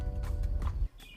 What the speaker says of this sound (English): Now that I brought the horses in